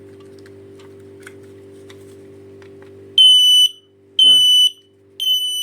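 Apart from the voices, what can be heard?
Hikvision HikFire smoke detector alarm beeping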